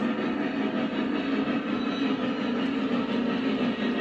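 A Lionel Visionline 1211 Class A model train runs on track with a continuous, close rumble of wheels and motor, steady and even in loudness throughout with no talking.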